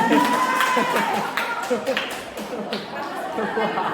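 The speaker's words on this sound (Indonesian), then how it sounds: "Benar, tepuk tangan." At a school quiz competition, an audience claps briefly after a correct answer, with scattered hand claps and chatter under a presenter's speaking voice.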